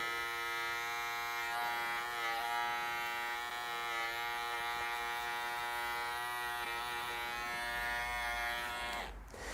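An electric hair trimmer buzzes steadily and close while cutting a man's hair at the hairline, a continuous harmonic whine that holds for several seconds before cutting off near the end.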